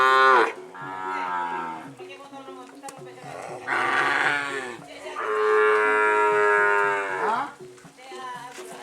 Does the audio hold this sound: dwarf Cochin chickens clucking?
no